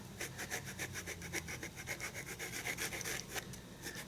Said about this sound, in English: You just sand it, and this one I've already sanded.